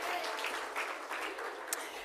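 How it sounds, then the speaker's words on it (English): Awards ceremony audience gives a round of applause, a continuous crackle of many hands clapping at moderate level with a few louder claps standing out. "Big round of applause one more time for Cal Bruton."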